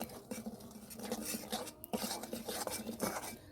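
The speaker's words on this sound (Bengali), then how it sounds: "এবার আমি ঘন ঘন নাড়বো, নাহলে লাল হয়ে তিতো হয়ে যাবে একদম।" Sugar caramelizing in a pan while being stirred often, with quick scraping and clinking of a utensil against the pan in a busy, close, uneven rhythm and no talking.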